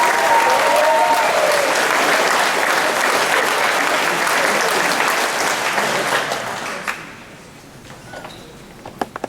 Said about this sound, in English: So give Coach Parker a round of applause